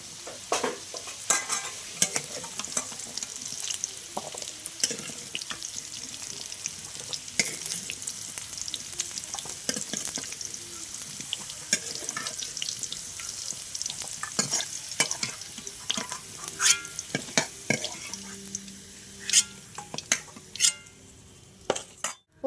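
Oil sizzles steadily as potatoes and jackfruit seeds fry together, with frequent scraping and clinking of a spatula stirring them in the pan.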